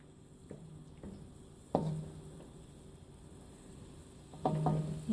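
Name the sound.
stirring pancit noodles in a pan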